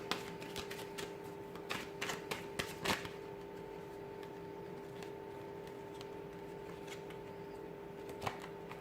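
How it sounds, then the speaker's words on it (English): Soft riffling and snapping of a deck of cards being shuffled, several quick bursts early on and then a faint lingering patter over low hum. "So we'll give the cards a shuffle"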